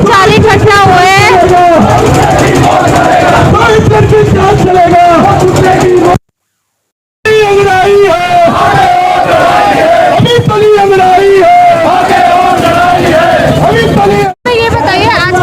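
A large crowd of protesting sanitation workers shouts and chants in a dense, loud roar, with rising slogan calls, broken by a brief cut of silence midway.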